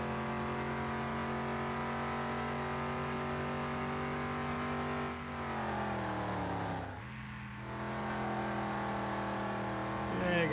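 A car engine revving under throttle in Car Mechanic Simulator 2021, a sustained buzzy tone that climbs, drops sharply during a brief lift-off, and then climbs again, steady and fairly loud.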